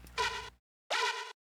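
Two buzzy synth bursts with a woof-like character, built from a unison sample in an Ableton project, sound one after another with a short gap, each bright and harmonically rich.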